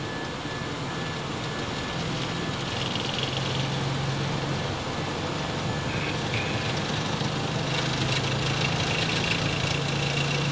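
From the flight deck of an SAS 737 or MD80 during the takeoff roll, the jet engines roar at takeoff thrust as a steady, loud, continuous drone with faint rattling vibration and no talk.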